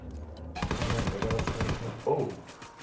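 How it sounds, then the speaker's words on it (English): Rapid automatic gunfire bursts from a tactical shooter video game, a dense rattling fusillade filling most of the short moment. "I'll immediately shoot from behind us."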